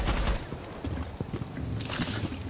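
Gunfire in a Rainbow Six Siege match, a burst of close shots with a few sharp cracks and thuds over game ambience, with brief low voice chatter underneath.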